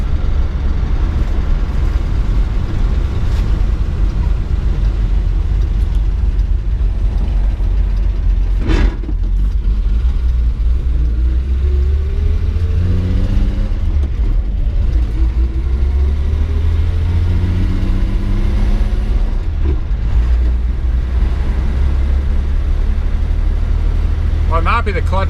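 A 1961 Ford Falcon left abandoned for over 20 years, with the distributor twisted and the timing retarded, idles roughly as a steady, loud low rumble, with a sharp knock partway through and someone talking over it.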